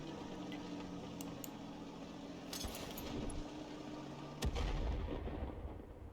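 Heavy booming gunfire from an M44 self-propelled artillery gun in a video game, a loud low-frequency shot with a sharp onset near the end of the clip over a steady rumbling engine-like background, with no talking.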